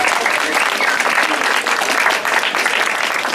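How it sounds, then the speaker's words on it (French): An audience at a public presentation in Pays d'Iroise applauds in a loud, dense, sustained wash of clapping that fills the whole few seconds without pause. "J'aimerais que vous applaudissiez encore plus fort."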